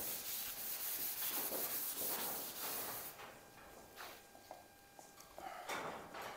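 Steady rubbing of a rag applying product onto a bare steel panel of an HZ Holden car, a close continuous hissy scrubbing that fades to softer intermittent strokes.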